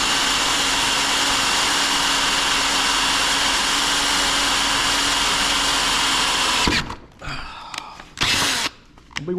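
A Ryobi power drill whirs loudly and steadily for several seconds drilling a hole, then stops, followed by a couple of short bursts of the drill spinning up again.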